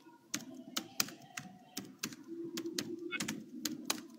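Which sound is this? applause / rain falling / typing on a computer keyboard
typing on a computer keyboard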